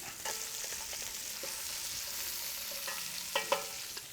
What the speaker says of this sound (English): And the bacon is making a nice sound